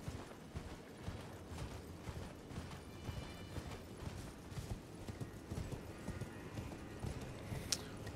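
Horse hooves clip-clop steadily in Elden Ring: Shadow of the Erdtree as the mount moves near a cliffside cave door, a continuous rhythmic trot with light mechanical creaks behind it.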